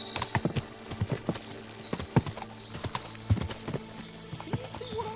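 Horses in the medieval video game Kingdom Come: Deliverance II: a busy run of hoof clip-clops at a walking pace with occasional neighs, fairly close and steady over a low ambient bed, with no voices.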